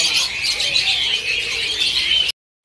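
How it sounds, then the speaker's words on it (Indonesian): A male F1 canary at a bird-seller's kiosk sings a continuous, rapid, high-pitched trilling chirp, loud and close, with no talk, cutting off abruptly near the end. "ada ready juga stok burung kanari F1. Ini jantan"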